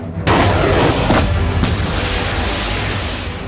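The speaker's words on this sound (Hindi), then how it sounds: "रूसी सैनिक तोपों और रॉकेट सिस्टम से यूक्रेनी सेना के ठिकानों पर जबरदस्त हमले कर रहे हैं" Russian artillery and rocket systems fire on Ukrainian positions: one loud, heavy blast opens suddenly and then rolls into a long, dense rumble that fades slowly, with no voices over it.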